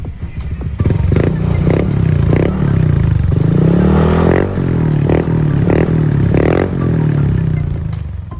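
A motorcycle fitted with a JVT Reviver exhaust revs hard close by in a series of rising and falling blips, each burst loud with a raspy tone and crackle, while people talk faintly in the background.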